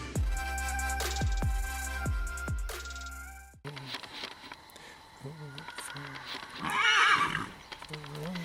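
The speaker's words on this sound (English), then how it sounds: "when he gets distracted by horses neighing" A young horse whinnies several times, loud and close, with some hoof clip-clop during polework and a person talking afterward.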